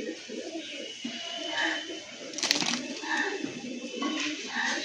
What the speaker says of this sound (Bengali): এই যে ওড়া পায়রা, এই যে আপনাদের সামনে উড়িয়ে দিলাম